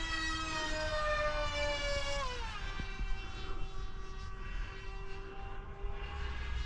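Supersonic RC plane running on a 5S LiPo battery, its loud, high whining motor pitching down as it passes and then holding a steady drone, close and continuous with no talk.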